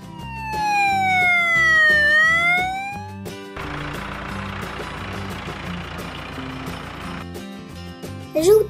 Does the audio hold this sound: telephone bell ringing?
no